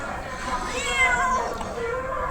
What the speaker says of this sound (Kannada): ಯಾಕೆ ಮೇವ್ ಮೇವ್ ಅಂತ ಇದೆಯಾ?